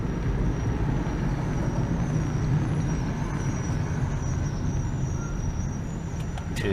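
Road traffic rolling past a thrift store outing, with a truck and its air brakes, a continuous loud rumble and hiss filling the whole stretch, steady and near, with no talking.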